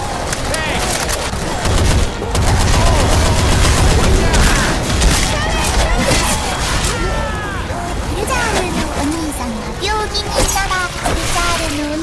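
Video game gunfire rattles in dense, continuous bursts, close and loud, with in-game voices shouting over the shooting and several bangs and impacts mixed in.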